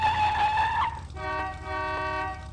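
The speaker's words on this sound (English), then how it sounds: "One had come to me in the form of a Studebaker approaching on Verf Street" A Studebaker car pulls up and stops on a city street in an old-time radio-style drama. There is a sustained tonal squeal that slides down, then a brief break, then a held horn-like blare, fairly close and with no voices.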